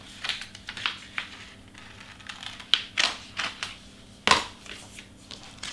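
Transfer tape for tumbler vinyl being cut and handled, giving a series of short, crisp snips and crinkles spaced irregularly, with one sharper crunch near the end, close and clear.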